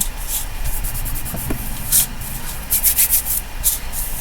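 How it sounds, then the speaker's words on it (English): Glued card is rubbed down by hand, giving soft, close brushing and rubbing strokes in short, uneven bursts, with no speech. "And then give it all rub down."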